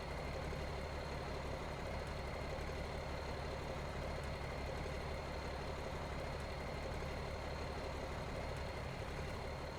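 A truck engine idles steadily in Farming Simulator 19, a continuous low rumble with a faint mechanical hum, alone with no talking, holding an even level throughout.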